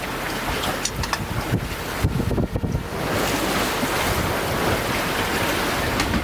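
Atlantic Ocean surf heard from a sailboat rushes and roars continuously, mixed with heavy wind buffeting the microphone, loud and close with no voices.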